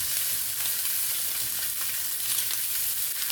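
Dr Pepper sausages frying in a pan on a stovetop, a steady bright sizzle crackling continuously at close range with no talking.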